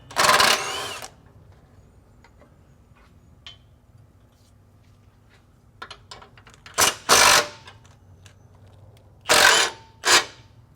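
Impact gun removing heavily rusted bolts during vehicle repair, several loud, close bursts of rattling hammering, each lasting about a second, separated by quiet gaps with faint clanks.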